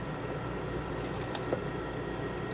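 Water runs from a kitchen tap into a pot for boiling potatoes, a soft continuous trickle with faint drips, fairly quiet and with no voices.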